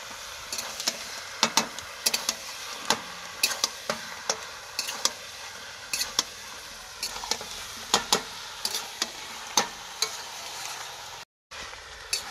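Chicken masala with kasuri methi being stir-fried in a pan, a soft continuous sizzle broken by frequent sharp clicks and scrapes of a spoon against the pan, with a brief dropout near the end.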